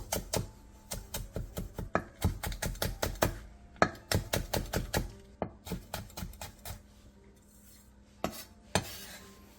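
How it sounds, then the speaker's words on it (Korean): A knife finely slices green onion, Korean cheongyang chilies and red chili that have been halved lengthwise, tapping quickly and crisply on a cutting board in close rhythmic bursts with brief pauses, with no talking. "대파 4분의 1개와 청양고추 2개, 홍고추 반개는 길게 반으로 가른 뒤 쫑쫑 썰어주세요."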